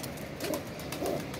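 A female pigeon coos close by, two soft throaty calls rising and falling over a busy background murmur.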